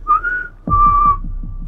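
A person whistles loudly outdoors near water in a forest, giving two strong, clear whistle tones in quick succession, the second one longer and held steady before fading into rustling background noise.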